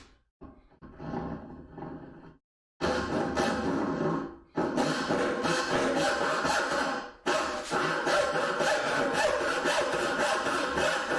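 Hand saw cutting through wood in a home woodworking project, rasping back-and-forth strokes that start faint and sparse, then settle into loud, continuous sawing with short pauses between runs.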